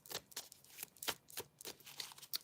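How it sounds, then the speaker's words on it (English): A deck of tarot cards is shuffled close by, soft repeated riffling bursts in an uneven rhythm, quiet and alone. "Shuffle first."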